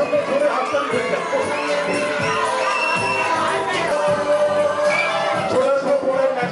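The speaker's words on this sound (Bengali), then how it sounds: "দুজনের জন্য ধরে হাততালি হয়ে যায়" A crowd at a magic show claps and cheers for two performers, a dense, steady roar of applause with shouts mixed in that holds loud and close for the whole stretch.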